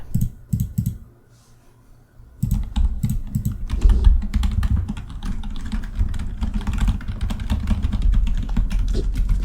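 Computer keyboard typing in a night-shift office, close and dry, with a short flurry of keystrokes, a brief pause, then steady continuous clicking.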